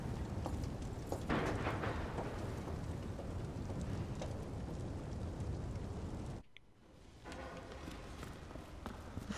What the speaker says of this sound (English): Never ending rain.